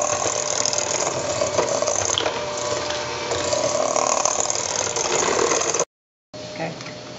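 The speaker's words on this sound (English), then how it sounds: "So now she's mixing the shortening and the sugar together." Shortening and sugar being creamed together with a mixer, a loud continuous whirring, grinding drone close by that runs steadily, cuts out briefly near the end, then resumes.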